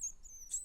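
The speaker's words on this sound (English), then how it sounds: "Oh, look, you have some baby girl chicks." Baby chicks chirping: thin, high peeping tweets in a brief burst, fairly close and alone.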